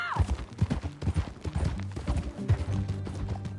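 Horse hooves clip-clop in Red Dead Redemption 2, a steady run of close hoofbeats mixed with low rumbling, with voices talking over parts of it.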